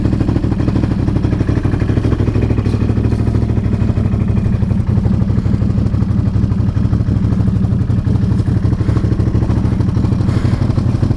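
Can-Am Outlander XMR 850 ATV with pipe wrap on its exhaust, running steadily at close range with a dense, throbbing engine note and mechanical clatter, held at an even loudness throughout with no talk.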